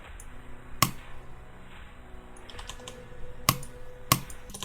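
Sharp keyboard clicks during a Geometry Dash extreme demon level called Carcano: a lone click early, then two more spaced near the end, over a faint steady background hum with no talking.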